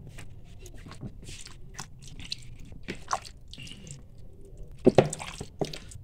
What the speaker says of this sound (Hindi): इन सारी चीज़ों को अच्छी तरह हम हाथ की मदद से मिक्स कर लेंगे।